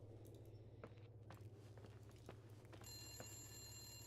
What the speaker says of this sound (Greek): Έχει εδώ πάνω τηλέφωνο. Από κάπου εδώ ακούγεται.